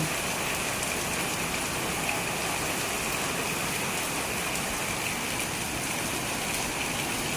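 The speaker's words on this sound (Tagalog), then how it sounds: "ang mga puno natutuwa sa pagbuhos ng ulan." Heavy rain, the first of May 2024 in the Philippines, pours steadily in a dense, unbroken hiss, loud and close, with no voices.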